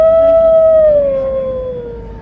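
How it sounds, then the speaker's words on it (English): Howling Halloween decorations at a Home Depot store give a loud, sustained electronic wolf-like howl that holds steady, then slowly slides downward in pitch over about two seconds, heard alone without talk. "you get a bunch of them howling there"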